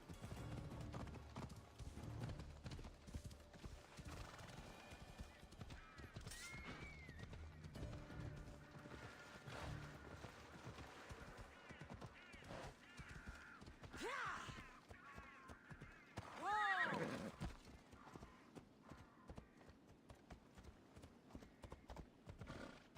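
Steady clip-clop of hooves trotting over a busy soundscape in the video game Assassin's Creed Odyssey, with a sharp horse whinny rising loudly partway through.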